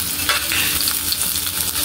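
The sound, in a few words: garlic and onion frying and stirred in pan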